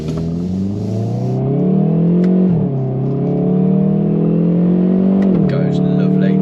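Hyundai i30N DCT hatchback engine pulling hard on a rough country road, a loud continuous in-cabin drone rising through the gears, with pitch dips at each shift and a voice talking over it.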